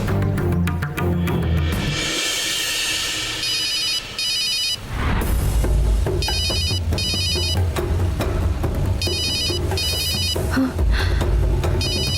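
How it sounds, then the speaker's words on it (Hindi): A telephone rings in a Hindi television drama, its electronic ringtone repeating in regular bursts with short gaps, loud and close over dramatic background music with no talk. "जयंती दीदी, आनंदी फोन उठाकर बात करने वाली है।"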